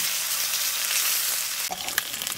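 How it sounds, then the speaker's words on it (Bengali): River pangas fish, taken from the fridge, fry in hot oil in a pan, giving a loud, steady sizzle that continues throughout with a few sharper crackles near the end. "নদীর পাঙাশ মাছ এখন ভাজা হচ্ছে"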